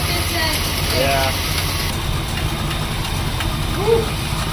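A Mopar barn-find car engine idles with a steady low rumble and rattle, fan running, while people talk nearby.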